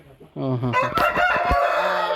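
A small rooster crows once on a poultry farm, loud and close, its rising call lasting over a second, with faint farm noise around it.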